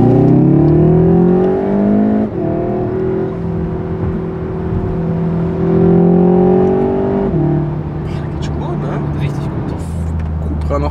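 Seat Leon Cupra R ST engine accelerating in sport mode, a loud, steady engine note rising through the gears with a shift near the middle, heard from inside the car with people talking over it.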